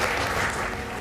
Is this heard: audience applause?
yes